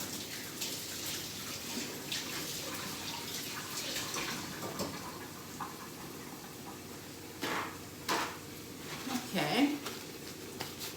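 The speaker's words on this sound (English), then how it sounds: "So I'm gonna wash my hands again." Water from a kitchen tap runs steadily while hands are washed, a faint hiss with light splashing and a few clinks of dishes or objects near the end.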